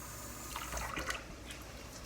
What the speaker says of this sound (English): Let's add a little more water.